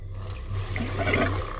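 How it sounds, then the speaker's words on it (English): Water rushes from a tap on newly re-plumbed lines in an off-grid camper: a steady, moderate splashing flow with some gurgling, heard close up. "I just had water coming out of it."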